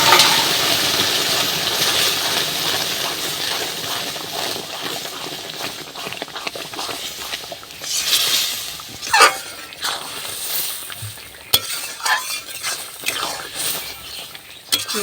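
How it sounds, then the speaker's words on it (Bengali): Jute leaves tipped into a hot pan of fried garlic for a jute-leaf dal, then stirred: a steady close-up sizzle of frying with scraping stir strokes and occasional sharp clatters, and no talking. "রসুনটা একটু ভাজা ভাজা হয়ে গেছে। এবার আমি শাকটা ঢেলে দেবো।"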